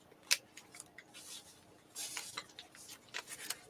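Scissors cutting through folded craft paper, a sharp snip near the start followed by soft rustling, brushing paper handling and a few faint snips, quiet and close.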